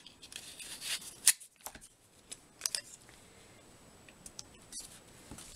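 Removable sticky tape pulled and pressed by hand onto a mixed-media floral art page, heard as a few faint, scattered crinkles and dry rubbing taps with one sharper snap, in a quiet room.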